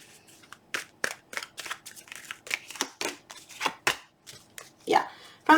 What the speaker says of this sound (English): Nope, don't like how that shuffled.